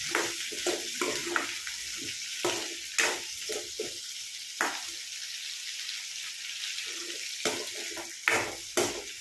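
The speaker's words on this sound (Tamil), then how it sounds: "சேர்த்துட்டு நல்லா கிண்டி எடுத்துக்கிறேன்." Onions and brinjal fry in oil for puli kulambu while a spoon stirs them in repeated scraping strokes over a steady close-up sizzle, with no one talking.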